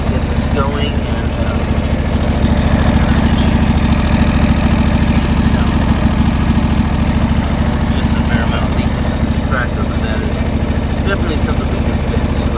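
A Little Bull loader's engine runs steadily at a loud, even idle for the whole stretch, a constant low rumble with a faint knocking texture and no pauses.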